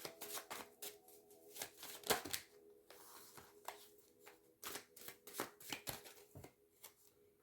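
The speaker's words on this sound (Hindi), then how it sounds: "मुझे लगता है कि 4 कार्ड्स आ गए हैं। ठीक है, नहीं 5 हो गए हैं। एक और निकाल लेते हैं।" Tarot cards are shuffled and drawn by hand, giving soft riffling and flicking rustles in uneven bursts with brief pauses, close but quiet and without speech.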